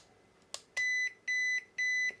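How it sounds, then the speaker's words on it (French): Three clear, evenly spaced electronic beeps from the radio transmitter of an Arrma Mojave Grom BLX RC car, each about a third of a second long, preceded by a soft click. "3 bips, mode 3."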